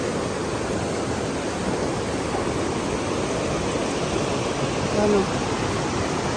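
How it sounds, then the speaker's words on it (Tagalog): Water rushing from Mother Falls, a dense, steady broadband roar of flowing stream that fills the whole scene, with a brief voice speaking partway through. "Ang tubig na yan, galing yan sa Mother Falls."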